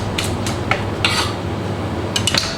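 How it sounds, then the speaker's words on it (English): Clatter of pots, pans and cutlery from chefs prepping dinner service in a busy restaurant kitchen, a few sharp metallic clinks and knocks spaced over a low steady background hum, no talk. "You might be hearing a bit of noise in the background. That's my other chefs working away"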